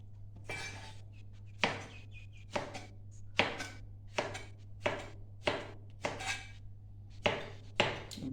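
Knife chopping beef liver into pieces on a board, about a dozen evenly spaced crisp thuds over a low steady hum, close and moderately quiet.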